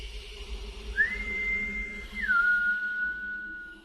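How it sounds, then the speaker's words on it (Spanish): A single long, thin whistle holds a high steady note, then slides down to a lower tone and fades, over a quiet low hum. "Hasta que de nuevo, ese silbido se hizo notar."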